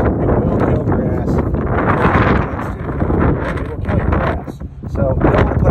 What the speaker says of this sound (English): Yeah, a little windy day today, sorry.